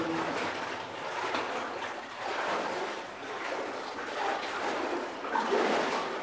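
Steady watery sloshing and splashing of someone wading up out of flooded workings in an abandoned lead mine, a continuous close wash with a few louder surges near the end.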